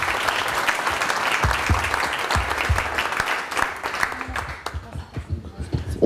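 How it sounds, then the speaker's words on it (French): Loud, sustained applause from a large audience fills the whole stretch, dense clapping with a few sharper claps and faint voices mixed in. "je vous demande d'applaudir bien fort Pascal, s'il vous plaît."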